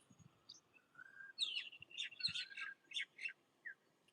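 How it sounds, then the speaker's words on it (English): Common myna birds call near a pond, giving a quick run of sharp chirps, whistles and squawky notes in short bursts, moderately close against a quiet outdoor background. "Side by side there is another myna here."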